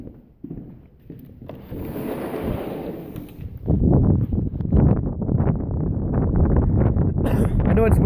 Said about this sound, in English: I know it's windy, guys, but deal with it real quick.